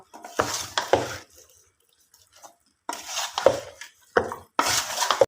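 Beef fry masala stirred in a pan with coconut oil, spoon scraping and clinking against metal in short bursts separated by pauses, close and moderately loud.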